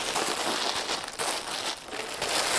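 Close, continuous plastic crinkling and rustling as a plastic bag holding crucian carp and corn flour is shaken and handled, with no voices.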